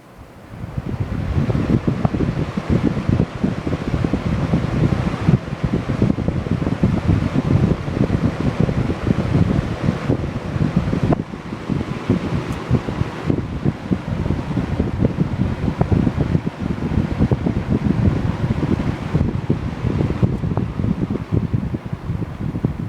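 A 1983 K-223 box fan runs steadily, giving a loud, close, continuous whooshing roar of moving air with a low motor rumble that holds constant throughout after a quick start.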